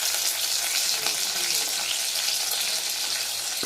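Onions, chana dal, asafoetida and curry leaves frying in hot oil, a loud continuous close sizzle with faint crackles and stirring throughout, no voices.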